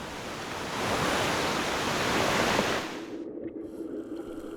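Huge typhoon-driven ocean waves roar in a broad, loud rush of surf that swells and then drops away to a quieter wash.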